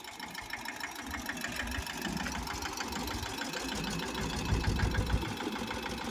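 A tractor engine runs steadily at a constant mid-pitched chug while pulling a homemade turmeric-planting rig across a farm field, continuous and fairly close throughout.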